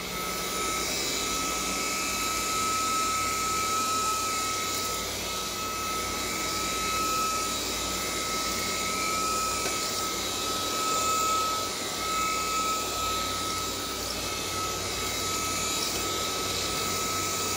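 A DreameTech T30 vacuum cleaner runs steadily on living-room carpet with a constant high motor whine and airflow hiss, close and unbroken throughout, with no talk.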